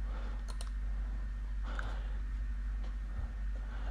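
Several sharp computer mouse clicks, a quick pair near the start and a few scattered later, faint over a steady low hum.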